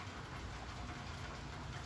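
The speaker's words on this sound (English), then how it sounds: "We have a gentle rain." Gentle evening rain falls steadily outdoors, a soft continuous hiss with low rumble beneath, no talk.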